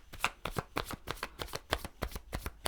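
Tarot cards are shuffled for a love reading, a rapid run of crisp riffling flutters and soft slaps repeating close and clear, with no talking.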